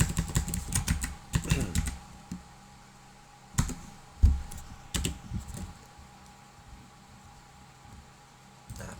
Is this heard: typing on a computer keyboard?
yes